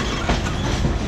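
A loud, rumbling rush of Thai railway train wheels rolling over a track turnout, with a quick clatter of joints passing close by.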